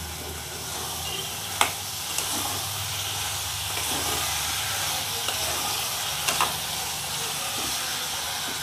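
Potatoes sautéing in oil in a pan for a dried fish and mango curry, a steady close hiss and sizzle with a few faint knocks of a stirring spoon.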